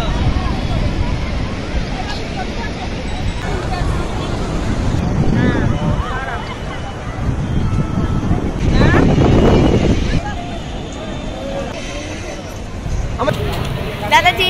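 Strong wind buffets the microphone at Puri beach in rain, a loud, continuous roar with rumbling gusts, while people talk over it.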